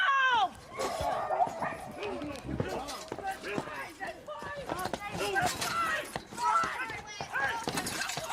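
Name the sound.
pit bull dog barking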